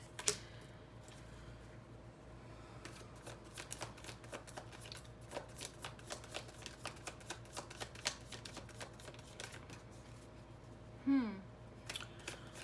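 Tarot cards are shuffled in quick, soft riffling bursts and taps that repeat steadily at close range, faint overall with a brief louder rustle near the end.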